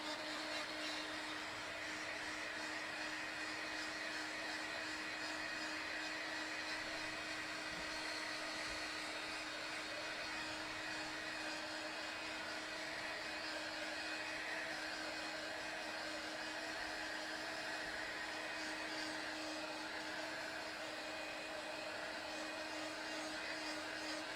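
A craft heat dryer blows steadily to dry ink on a paper craft piece, a constant close whirring hum with no breaks throughout.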